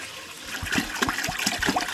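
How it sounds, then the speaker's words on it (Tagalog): Water poured into a cooking pot of glutinous rice for boiling, a steady splashing and gurgling pour that runs continuously at close range with no talk over it. "Ating ilalagyan ng tubig."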